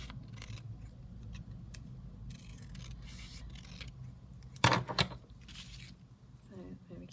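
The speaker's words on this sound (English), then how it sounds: "I can just trim this down slightly, I suppose" Glassine paper for a junk journal being trimmed with scissors: faint snips under quiet speech, then one sharp louder cut near the end.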